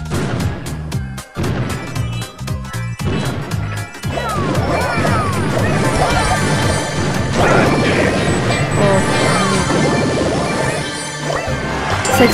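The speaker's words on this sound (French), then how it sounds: "Ça explose de partout." Explosions in the video game Brawl Stars, a rapid burst of loud crashing blasts at the start followed by a dense, continuous roar of game effects and music.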